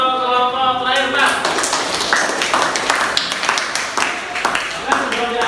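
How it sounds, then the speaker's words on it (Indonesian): A classroom applauds the last group to present during a teaching-practice session in Indonesia. Dense, scattered clapping starts after about a second and continues steadily, with voices talking underneath. "Tepuk tangan untuk kelompok terakhir"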